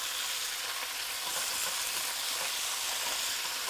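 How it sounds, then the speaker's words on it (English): Bok choy sizzles cut side down in a hot pan with speck, a steady, close, crackling fry that holds evenly throughout with no talking. "And that pan is really sizzling."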